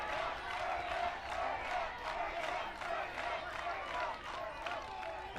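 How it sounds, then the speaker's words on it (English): Youth baseball crowd at a Little League Northwest Regional game between Seattle and Beaverton, Oregon, chanting and cheering steadily, with rhythmic pulses of the chant rising over a continuous roar of voices. "Chanting Murray Hill. Cheering for the Little Leaguers from Beaverton"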